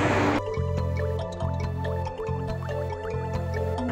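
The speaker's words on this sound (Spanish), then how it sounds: "Ahí está el panel, está produciendo agua." Water drips steadily from a panel that pulls water from the air, a run of clear, close drops falling one after another at an uneven pace over a low constant hum.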